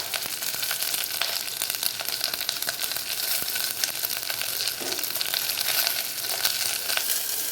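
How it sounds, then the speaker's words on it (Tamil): Drumstick pieces and onions with asafoetida sizzle steadily while being tempered in a hot pan, a continuous bright frying hiss with small crackles. "நம்ம முருங்கைக்காய், வெங்காயம் 2 ஒன்றா சேர்த்து நல்லா தாளிக்க போகிறோம்"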